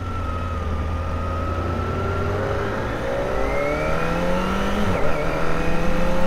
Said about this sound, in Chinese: 大家能够听到像这样的一个引擎的转速的一个声音